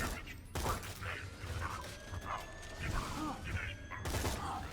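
A Dahl minigun fires rapid rounds in Borderlands 2, a quiet, dense stream of shots with short bursts and gaps, mechanical clatter mixed in.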